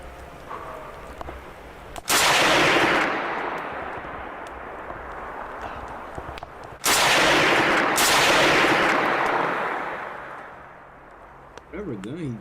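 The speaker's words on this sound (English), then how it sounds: "Whatever gun he got, that thing loud." Two very loud, booming gunshots from a hunting encounter, each a sudden blast followed by a long rumbling decay, the second about five seconds after the first.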